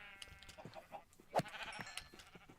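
Blocky game sheep bleat in Minecraft, several short wavering calls overlapping close by, one louder bleat standing out in the middle.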